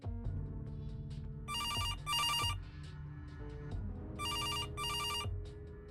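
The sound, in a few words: telephone ringing in video game Kathy Rain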